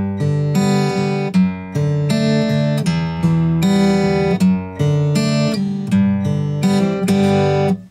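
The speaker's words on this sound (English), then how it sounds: "This is a common one I use in finger picking." Fingerpicked acoustic guitar plays a flowing slash-chord pattern, plucked notes ringing together in a steady rolling rhythm, close and clear.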